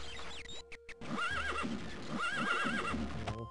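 A horse in the video game TES: Daggerfall gives a loud, wavering whinny after a brief choppy start, then neighs again in a second rising-and-falling call, with soft hoof clops underneath.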